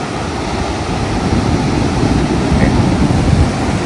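Sea waves wash onto a beach where people are bathing, a loud, constant broadband roar of surf with wind buffeting the microphone and no voices.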